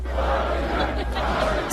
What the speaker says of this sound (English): Supporters start chanting Kirk's name ahead of his appearance